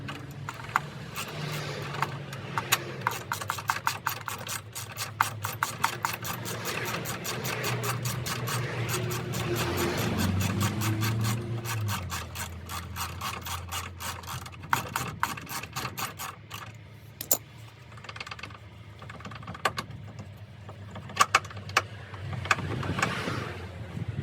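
Long bar working a bolt loose on a Ford Fiesta Mk7 suspension bottom arm, a run of repeated ratcheting clicks and metallic creaks close by, with scraping mechanical handling throughout and no talking.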